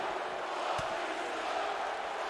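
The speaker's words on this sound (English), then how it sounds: "everyone's cheering for Batista" Steady roar of a crowd cheering for the wrestler Batista in the WWE 2K video game, a dense continuous wash of arena noise with one brief thump near the start.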